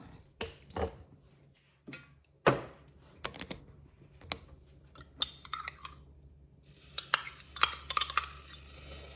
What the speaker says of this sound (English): So I'm gonna saute the butter like so.